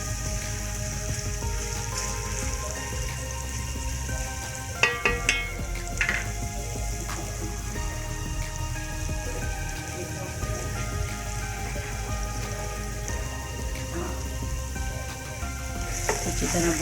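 Chicken with crushed ginger and garlic fries steadily in a pan, a dense continuous sizzle with crackling pops and a few brief clinks of a utensil midway, no voices.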